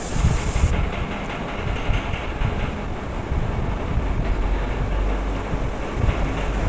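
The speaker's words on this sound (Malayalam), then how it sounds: "അപ്പോൾ ആ കുക്കറൊക്കെ വിസിലടിച്ചിട്ടുണ്ട്" A pressure cooker on a home kitchen stove lets off a steady, loud, rushing steam hiss that continues throughout, with a brighter high-pitched edge at the very start.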